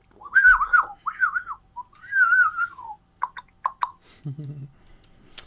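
A person whistles a short series of imitated common bird calls, warbling rising and falling notes followed by quick chirps and a lower trill, close and clear in a quiet space with no talk.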